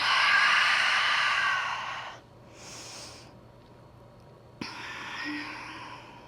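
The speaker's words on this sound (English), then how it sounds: "Big full breaths here." During a core strength yoga flow, a person takes slow, deep breaths through the nose, each one a long airy rush followed by a softer pause. The breathing is close and clear, with no talking.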